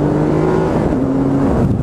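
A 2016 Triumph Tiger Explorer XRT 1200cc motorcycle engine pulling hard under acceleration, a loud continuous droning roar with rising pitch, heard close while riding.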